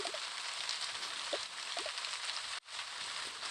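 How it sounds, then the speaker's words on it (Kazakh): Steady rain falls in a game scene, a dense even hiss filling the whole clip with a few soft patters and a brief dropout near the end, no talking. "Жаңбыр жауып тұр, ойнамайтын сияқтымыз."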